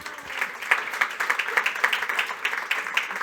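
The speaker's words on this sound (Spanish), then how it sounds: "Un aplauso, por favor." An audience at an event on Chile's silver economy claps for a newly introduced guest, a short burst of moderately loud, fairly sparse applause that rises and then holds steady.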